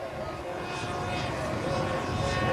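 A VisionAire Vantage RC model jet, a forward-swept-wing replica of a single-engine corporate jet with a ducted fan, flies a trim pass. Its faint, steady airy whine and rushing drone hold at a distance, swelling slightly toward the end.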